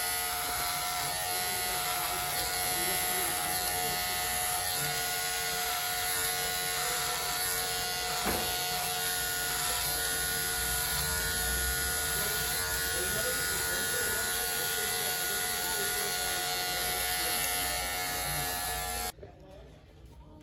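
An electric hair clipper with a number 1 guard trims hair in a close, steady, loud buzz with a bright hum that runs unbroken for about nineteen seconds and then cuts off.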